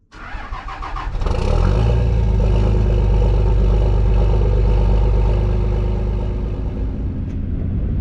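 Pickup truck engine cranking and starting on a cold, frozen morning, catching about a second in and settling into a loud, steady idle close by, with no talk.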